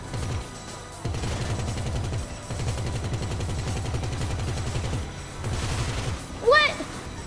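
Rapid automatic gunfire in Grand Theft Auto V plays as several long, dense rattling bursts separated by brief gaps, fairly loud and close, ending with a short rising electronic chirp.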